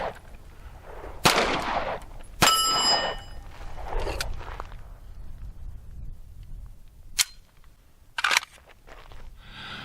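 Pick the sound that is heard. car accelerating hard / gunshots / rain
gunshots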